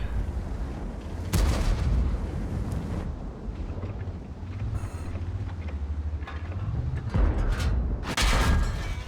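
World of Tanks cannon fire from a Maus heavy tank on the Lakeville map, two sharp booming shots several seconds apart over a steady low engine rumble, close and loud.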